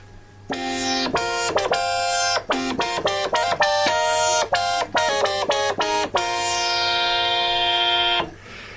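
A bright, buzzy Moog synthesizer lead with three oscillators tuned at pitch intervals plays a quick melodic phrase of short staccato notes, then holds a long sustained tone before cutting off.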